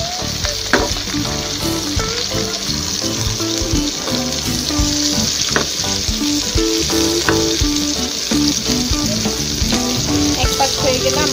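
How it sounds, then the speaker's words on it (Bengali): Poa fish frying in hot oil in a pan, a steady loud sizzle that runs the whole time with occasional sharp crackles and pops, close and with no talking. "খুব সাবধানে আমাদের মাছগুলো দিয়ে দিলাম। গোল্ডেন করে ভেজে নেব"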